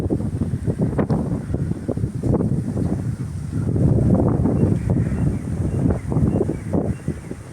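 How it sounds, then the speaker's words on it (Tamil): Strong gusts of wind buffet the microphone during light rain, a loud rumbling, fluctuating roar that swells and eases throughout with no talking. "அப்புறம் காற்று இப்போ வந்துடுச்சு. லைட்டாக மழை தூரிச்சு. சரியான காற்று."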